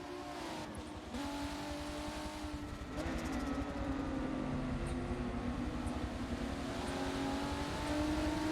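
Race cars lapping Brands Hatch circuit, engines droning steadily at a distance with rising revs and a second car joining, a continuous moderate motor roar throughout.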